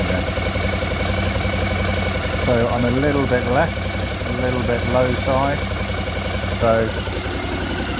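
Engine of a 1981 Honda CX500 motorcycle idling steadily at close range, a continuous low throb running throughout while someone talks over it in short bursts.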